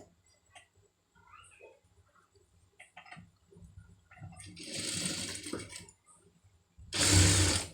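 Short bursts of a sewing machine stitching thread piping onto fabric, two quick whirring runs close by after faint handling noises.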